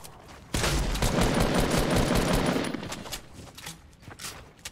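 A loud, dense burst of double-barrel shotgun fire in a shooter video game, erupting suddenly and roaring for a few seconds before tapering into scattered, fainter shots.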